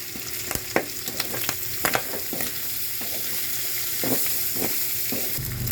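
Pork frying in a pan over high heat, a continuous crackling sizzle with sharp spattering pops and occasional stirring scrapes, close and alone without talk.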